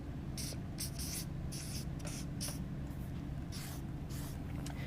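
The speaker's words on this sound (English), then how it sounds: "So I'm going to write that down." A pen writes a note close by in a series of short, scratchy strokes that come in bursts, over a steady low hum.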